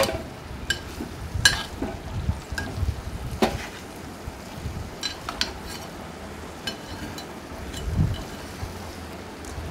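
Raw banana and tomato curry being stirred in a pan, a faint ongoing sizzle with scattered soft scrapes and clinks of a spoon against the pan, quiet and close.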